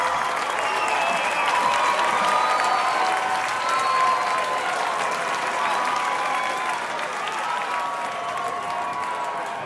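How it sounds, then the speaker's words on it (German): A concert crowd at the Rock Am Turm festival in Coesfeld applauds a live rock band, producing loud, dense and sustained clapping that fills the whole stretch without pause. "Und deswegen mal einen dicken, dicken, dicken, fetten Applaus."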